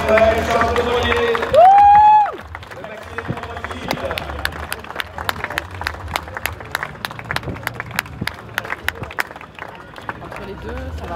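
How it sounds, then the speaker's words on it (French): An audience at the finish of the Maxi Edmond de Rothschild sailing race claps steadily and loudly for the arriving sailors. A voice on a loudspeaker opens the scene, then dense applause and crowd noise continue throughout. "On peut dire que déjà les applaudir très très fort, bravo à eux."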